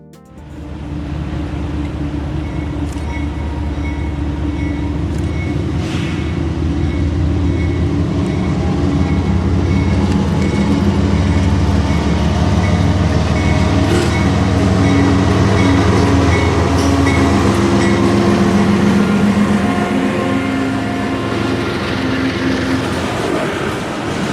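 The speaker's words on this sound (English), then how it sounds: "our next train was Union Pacific Loaded Coal Train CWEKS" A loaded Union Pacific coal train rolls past on the Indiana Harbor Belt, a loud continuous rumble of wheels and cars with steady low drone and metallic squeals throughout, close by and unbroken.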